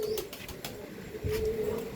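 Pure Andhra line pigeons cooing at close range, with soft repeated coos and a few sharper chirps and flutters over a quiet background, no speech.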